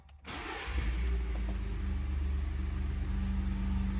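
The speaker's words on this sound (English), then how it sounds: "let's go ahead and start this vehicle up for y'all" A 2019 Ford F-150 XLT starting up from inside the cab: a brief starter crank, then the engine catches and settles into a steady, loud, rumbling idle with no talk.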